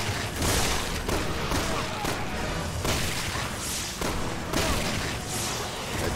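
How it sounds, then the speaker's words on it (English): Explosions and gunfire from the Resident Evil 6 video game fill the scene with dense, continuous booms and rattling shots, loud and unbroken for several seconds. "And more explosions."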